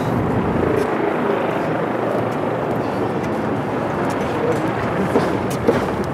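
Helicopter rotor and engine drone at a sightseeing tour site, a dense steady roar held at constant level throughout, close and loud, with faint voices underneath.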